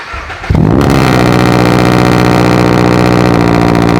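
A Subaru BRZ sports car engine fires up loudly after a brief quiet moment, then settles into a rough, throbbing exhaust idle that continues close by.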